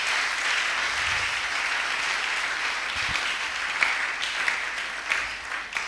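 A church congregation claps and cheers in steady, sustained applause filling the room, loud and continuous throughout with no one speaking over it.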